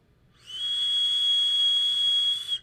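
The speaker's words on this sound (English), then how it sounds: "There was a slight whistle to it, wasn't there?" A Golem RDA vape atomizer drawing air, producing a steady high airflow whistle with breathy hiss that starts abruptly, holds for about two seconds close to the mic, then cuts off.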